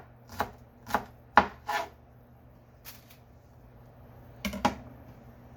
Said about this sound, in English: You want to cut it quite thinly.